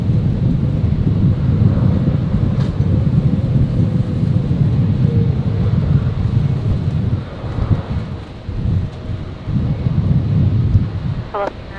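A Fiji Airways Boeing 737 MAX 8 airliner lands at Brisbane with a steady, loud, broad roar that carries through the whole stretch, buffeted by gusty wind noise, with a few rises and dips toward the end.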